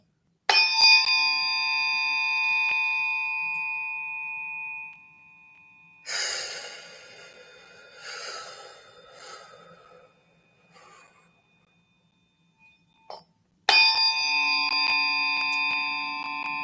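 A struck 144 tuning fork rings with a pure, sustained tone that slowly fades, followed by soft rustling and another sharp strike that rings out again.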